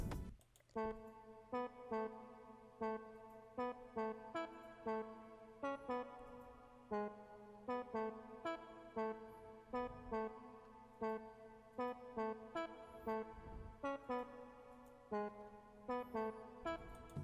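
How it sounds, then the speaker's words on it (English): Sampled amapiano saxophone playing a looping riff of short, punchy stabs in a steady rhythm, with a dense, buzzy tone that repeats throughout. "this is what the amapiano sax was playing in the song"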